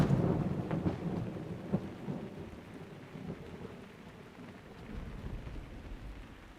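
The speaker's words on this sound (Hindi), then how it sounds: "वैसे बारिश हो रही है बाहर" Steady rain outdoors with rumbling thunder, heavier at the start and easing into a softer wash of rainfall, no voices present.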